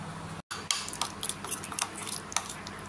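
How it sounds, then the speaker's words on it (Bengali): A utensil stirs yogurt, lemon juice and aloe vera into henna paste in a bowl, giving faint, irregular taps and clinks against the container with soft wet scraping. "দেখো বন্ধুরা, টক দইটা, লেবুর রস আর অ্যালোভেরাটা খুব ভালো করে মিশিয়ে দিচ্ছি"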